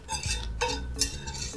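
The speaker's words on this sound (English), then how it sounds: "We want to whisk that cream cheese until it's smooth." Cream cheese and chocolate syrup are whisked in a bowl, three or four brisk scraping strokes with clinks of the whisk against the bowl, close and alone.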